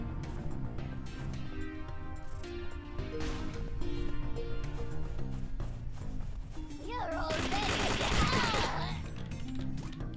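A turret in a video game fires bursts of rapid gunfire with metallic clanks and a loud crashing blast near the end, mixed with game music and some talking.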